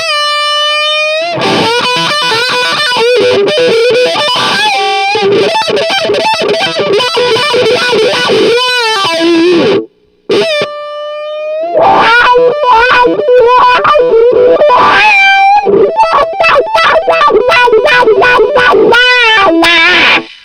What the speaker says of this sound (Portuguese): Depois da distorção ele fica meio estranho, fica um filtro muito exagerado e tem essa sensação que come a distorção todinha